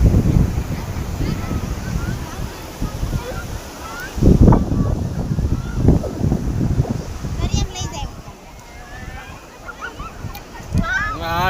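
Wind gusts across the microphone on the sea shore near Somnath, with waves washing in underneath a continuous roar and people talking nearby.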